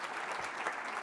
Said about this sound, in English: So another round of applause for this